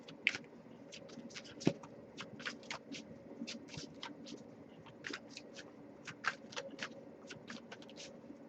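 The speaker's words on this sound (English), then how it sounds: "Okay, nothing coming up yet, but I'll give it a few more shuffles." An oracle card deck is shuffled by hand in a quiet room, a string of crisp, rapid riffling bursts and soft slaps coming in irregular clusters, close and fairly faint, with no talking.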